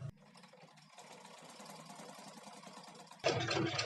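A sewing machine stitches around the neckline of a square-neck nighty, a steady close mechanical whir running throughout and growing louder and faster near the end, with no talking.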